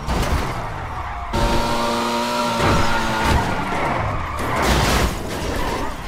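A car in GTA 5 skids and scrapes through a crash, with tire squeal and a sustained engine roar that stays loud across the whole stretch, punctuated by impact noises.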